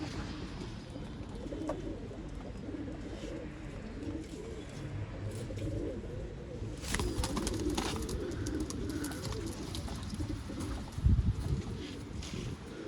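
Old line pigeons cooing in a loft in Bangalore, low soft repeated coos layered from several birds, close and continuous, with faint background hiss and a brief clatter near the end.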